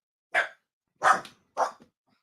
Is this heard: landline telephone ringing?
no